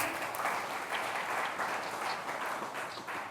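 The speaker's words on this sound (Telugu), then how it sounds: "ఆయన చప్పట్లు కొట్టండి అందరూ కూడా." A church congregation applauding together during a prayer service, dense sustained clapping from many hands at moderate distance, steady for a few seconds without talk.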